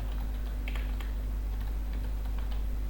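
A gcc compile command typed on a computer keyboard while connected to a Raspberry Pi, a short run of light, close key clicks over a steady low electrical hum.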